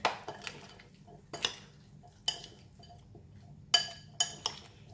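Spicy chickpea salad being mixed with sauce in a bowl, giving a few separate clinks of a utensil against the dish at irregular intervals, close and fairly quiet over a low background hum.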